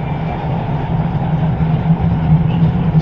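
A PC-9 turboprop trainer's engine runs steadily just after startup, a close, continuous low drone with a strong hum and no speech over it.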